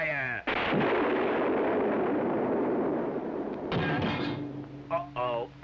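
A cartoon cannon fires with a sudden loud boom followed by a long rumbling explosion that fades, with a voice and shouting heard over the tail end.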